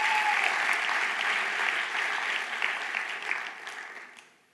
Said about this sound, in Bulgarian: Нека им ръкопляскаме, докато сядат.